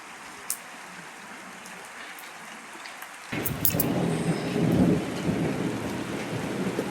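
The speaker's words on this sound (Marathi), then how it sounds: "विजांचा आवाज किती येतोय." Thunder rumbles low and heavy through a downpour in a village during a Gudi Padwa fair, rain hissing steadily while a deep rolling peal breaks in partway and lingers loud over the falling water.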